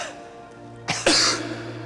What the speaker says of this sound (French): Il suffit de tousser.